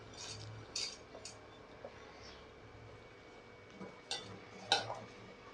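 A spoon stirring ground roasted peanut powder into sweet ragi porridge in a bowl, giving a few soft scrapes and light metallic clinks against the dish, close and quiet, with no talk.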